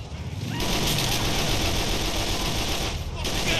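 Sustained game gunfire from GTA IV: The Lost and Damned aimed at a limousine, a dense continuous rattle of shots with engine noise beneath, running loud for most of the span.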